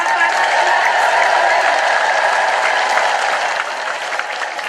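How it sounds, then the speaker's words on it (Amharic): A crowd claps steadily and loudly throughout, with high trilling ululation rising above the applause. "አመስግኑልኝ እልል ብላችሁ"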